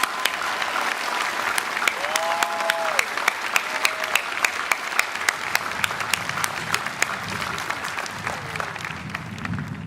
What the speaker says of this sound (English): Let's give another round of applause for our exceptional keynote speaker, Pat Gallagher.